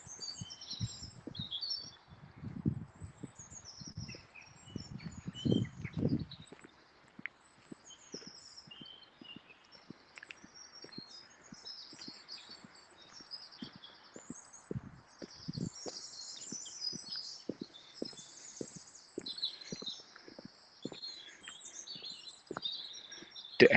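Spring birdsong outdoors along the Leader, with bright chirps and tweets scattered throughout at a moderate distance, over soft footsteps and rustling close by.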